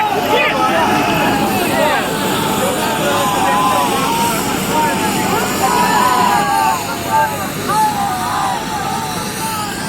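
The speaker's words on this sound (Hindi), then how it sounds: "और ये देखिए हेलीकॉप्टर बीच मैदान पर हेलीपैड पर उतरता हुआ" A helicopter comes down onto a helipad in an open field in Sardarshahar, Rajasthan, as crowds gather at a political rally. Its engine and rotor drone fill the background steadily beneath a constant hubbub of crowd voices.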